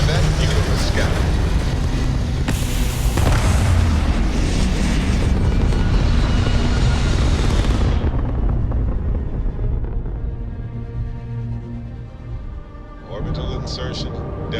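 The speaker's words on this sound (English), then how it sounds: "Liftoff initiated, Captain." A spaceship lifting off in Starfield, a loud, sustained roaring thrust with deep rumble that builds, then drops away to a quieter hum, with talk over the later part.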